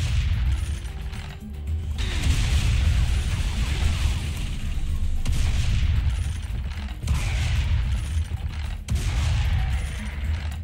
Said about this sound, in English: You don't want them to fire, they got a machine gun.